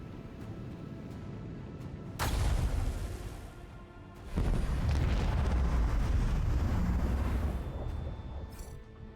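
Torpedoes striking a ship in the space combat game Rogue Trader, two heavy rumbling explosions, the second more sustained, each booming in and slowly fading, with no talk over them.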